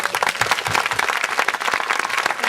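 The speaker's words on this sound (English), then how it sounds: "I want to give a round of applause to you guys in the crowd" A crowd gives a round of applause at a tribute event, dense continuous clapping from many hands filling the room at steady loudness throughout.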